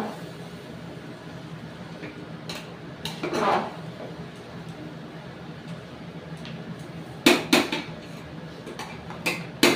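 Meat being browned and stirred in a pot, with a metal spatula clanking and scraping against the sides in scattered bursts over a steady low kitchen hum. No one speaks.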